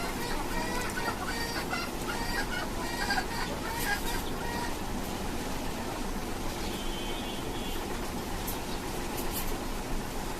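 A tiger rooster on a five-storey rooftop clucks repeatedly against steady background noise, close and moderately loud.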